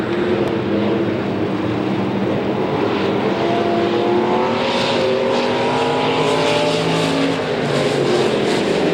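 IMCA stock cars roar around a dirt track in a heat race, a loud, continuous engine drone with rising and falling pitches as cars pass, close and unbroken throughout without commentary.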